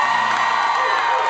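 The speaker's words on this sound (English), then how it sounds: "Heaven, now you can clap" A crowd cheers and whoops loudly in a continuous burst, with clapping mixed into the roar.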